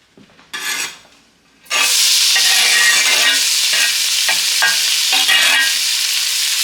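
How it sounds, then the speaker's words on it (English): Onion and garlic sautéing in a skillet, set in quiche preparation: a short burst of sizzle, then loud, steady frying hiss as the food hits the hot pan, with rhythmic stirring scrapes throughout. "we're going to add that and saute it in the skillet"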